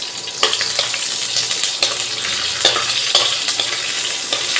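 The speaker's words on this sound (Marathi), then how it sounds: "फोडणी ASMR." Spices crackle and sizzle loudly in hot oil as tempering (phodni) for varan, a dense bright hiss broken by sharp pops and stirring scrapes, close up with no voices.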